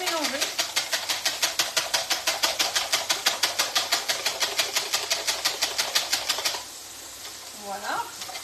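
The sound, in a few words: whisk beating three eggs in a bowl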